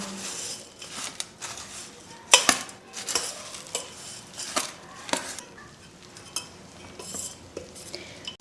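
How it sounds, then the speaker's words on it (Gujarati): Bhel being mixed with nylon sev, giving scattered spoon-and-bowl clinks and soft stirring rustles at close range, with sharper scrapes at intervals and no talking. "હવે બધું જ આપણે મિક્સ કરી લઈશું અને ભેળને તૈયાર કરી લઈએ"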